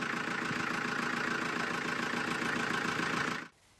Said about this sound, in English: at least the engine runs now, that's a good sign